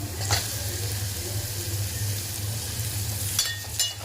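Onion and tomato sautéing in a pan for a potato curry, a soft steady sizzle with a few spoon scrapes against the pan, close, over a low background hum.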